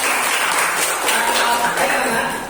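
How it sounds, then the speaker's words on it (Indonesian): Steady, dense clapping from a classroom audience of teachers, a cheer-style clap, running loud and continuous for the whole stretch with faint voices mixed in. "Tepuk luar biasa."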